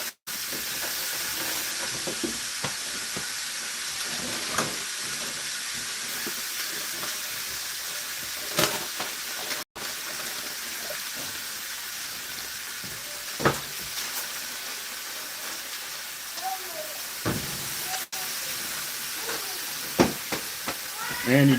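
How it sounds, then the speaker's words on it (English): Ground beef sizzles steadily in a hot pan, a constant hissing crackle with occasional clinks and scrapes of stirring throughout. "Got a nice sizzle going right there."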